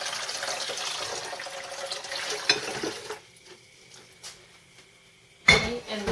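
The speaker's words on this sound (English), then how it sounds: "I'm just using filtered water from my sink." Filtered water runs from a kitchen sink tap for about three seconds in a steady broadband rush, then stops, leaving quiet room tone broken by a sharp clink of kitchenware near the end.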